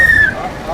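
Kanwar pilgrims in Haridwar blow whistles in short, shrill bursts, one near the start and another near the end, over a busy crowd and street din.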